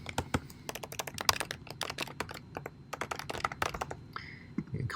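Rapid, uneven keystrokes on a computer keyboard as a web address is typed in, sharp clicks in quick bursts with brief pauses, close and fairly quiet, with no talking.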